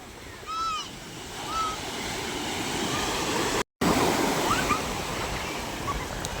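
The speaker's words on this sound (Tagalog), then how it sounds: "Malalaki pa ang alon mga kamay pero nakakalaot na." Steady wash of ocean surf and wind noise at a fish terminal in Tanza, Cavite, broad and continuous, with a few faint bird-like chirps and a brief dropout in the middle.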